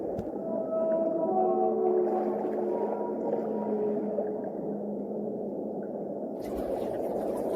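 A whale sings in long, drawn-out tonal moans and wavering calls over a continuous watery underwater rush, sustained and fairly loud, ending with a brief burst of noise.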